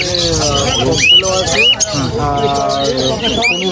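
Many birds at a pet market in Serampore chirp and coo close by in a noisy cluster, sharp rising calls cutting through a dense background of chatter and movement.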